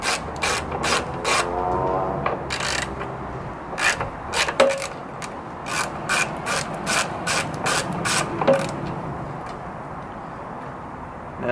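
A hand ratchet loosens 10 mm bolts on a Kawasaki KZ400 motorcycle under restoration, with bursts of rapid clicking and short pauses between strokes, close and fairly loud, and no voices.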